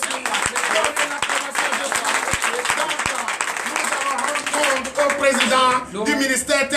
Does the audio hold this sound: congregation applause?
yes